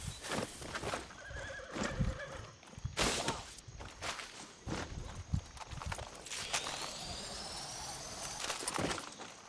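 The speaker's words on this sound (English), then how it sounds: "A horse?" A horse whinnies with a bright, rising neigh, with hooves clip-clopping intermittently nearby.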